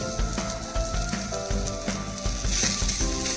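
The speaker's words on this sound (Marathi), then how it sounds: "कांदा काळसर होईपर्यंत आपल्याला भाजायचा आहे" Onion being roasted on a hot tava until darkened, a loud close sizzle with crackling pops and faint scraping of stirring, steady throughout with no voices.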